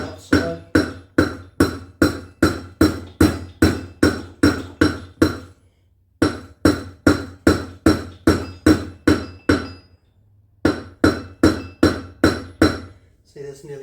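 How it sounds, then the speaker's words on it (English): A hammer strikes the outer diameter of a metal differential part at a slight angle in quick, evenly spaced ringing blows, three long runs separated by short pauses, loud and close. "So I've got the hammer on a slight angle. So I'm just hitting the outside."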